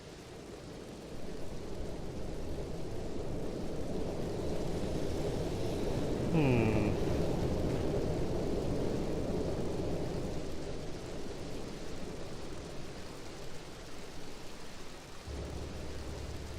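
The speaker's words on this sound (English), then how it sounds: "It's like, I know, why it's gotta be raining?" Rain and thunder in Grand Theft Auto III on PS4: a steady hiss of rainfall runs throughout, swelling with a low rumbling roll of thunder in the middle, beneath a game tone and distant effects.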